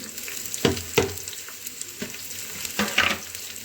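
Chopped onions and green chillies sizzle and fry in a hot pan for aloo methi bhurji, with loud bursts of hiss as a spoon stirs and scrapes them at close range.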